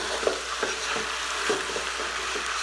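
Kabsa is stirred in a cooking pot over a soft continuous sizzle, with regular scraping strokes repeating about every half second.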